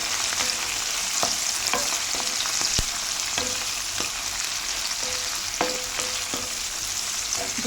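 Fenugreek leaves hit a flat bean and tomato curry in a hot pan, raising a constant close sizzle with scattered sharp clicks of stirring throughout.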